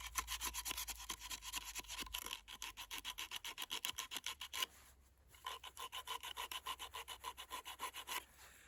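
Coarse abrasive rasps back and forth across a handmade wooden Indian club in steady, rhythmic strokes, loud and close, with a brief pause partway through before the scraping resumes.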